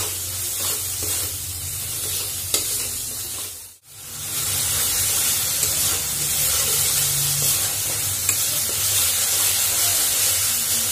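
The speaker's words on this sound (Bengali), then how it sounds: "এখন আদা রসুনের পেস্ট দিয়ে দিচ্ছি, সেগুলো বেটে রেখেছি। খুব কম আঁচের মধ্যে কিন্তু ভাজতে হবে" Ginger-garlic paste frying over very low heat in a pan, giving a steady close sizzle and hiss with occasional stirring scrapes and one brief dip in the sound partway through.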